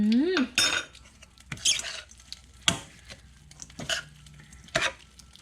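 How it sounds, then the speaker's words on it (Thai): Long bean and shrimp salad being spooned onto a serving plate, a few sharp clinks and scrapes of a utensil against dishware separated by quiet gaps, close and alone. "ตักเสิร์ฟค่ะ นี่ค่ะ จัดใส่จานเรียบร้อย"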